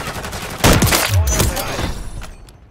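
Loud close gunfire in Call of Duty: Modern Warfare III, with a sharp burst of shots followed by a booming ring that fades out over nearly two seconds.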